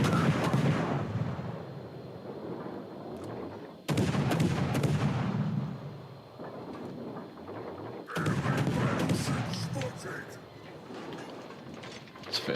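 Heavy naval gunfire in World of Warships, with loud booming salvos at about 0, 4 and 8 seconds, each followed by a rumbling decay and lingering battle noise.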